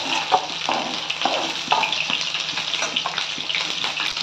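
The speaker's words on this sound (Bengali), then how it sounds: "পনিরগুলোকে এইভাবে আমি ভেজে তুলে নেব।" Paneer cubes frying in hot oil in a pan, a steady dense sizzle with a few brief clinks and stirring touches near the start, fairly close and continuous, with no voices.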